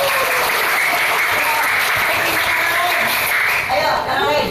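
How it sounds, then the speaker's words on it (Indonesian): Elementary school pupils in a classroom clap for a classmate. The dense, steady applause runs throughout, and voices can be heard faintly beneath it. "Kita tepuk tangan buat Paki"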